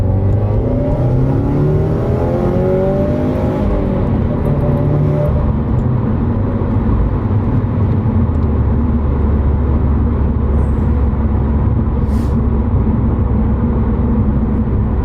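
A 2018 Subaru WRX with modified exhaust pulls hard in second gear, its exhaust note climbing and rumbling loudly and steadily throughout, close by with a constant drone of road noise.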